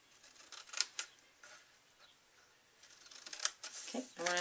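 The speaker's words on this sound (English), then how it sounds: "now we're going to cut our score lines here" Score lines being cut into paper while making a die box, a few short crisp snips spaced apart with quiet handling noise between them, close and fairly soft, no talk.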